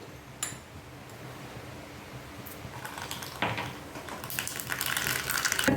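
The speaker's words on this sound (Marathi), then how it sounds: "तेल चांगलं तापलं की त्याच्यात मग मोहरी" Mustard seeds crackling in heated oil for a GSB-style sambar tempering: faint at first, with sparse ticking pops that grow into a denser, louder crackle toward the end.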